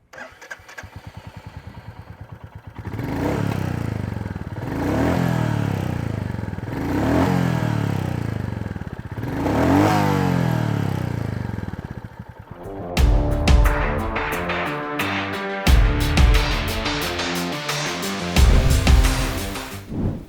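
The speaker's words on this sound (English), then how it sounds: "let's check out how the new Goan Classic 350 sounds" A Royal Enfield Goan Classic 350 motorcycle idles with a steady single-cylinder thump through its exhaust, then is revved in several loud, sharp throttle blips with a crackling, pulsing exhaust note, heard close up with no talk.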